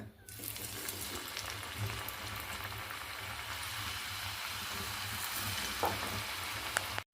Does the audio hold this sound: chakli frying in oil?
yes